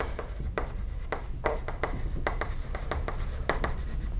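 Handwriting strokes on a board or paper during a Korean lesson, a series of short scratchy rubbing strokes in an irregular rhythm, close and fairly quiet, with no talk over them.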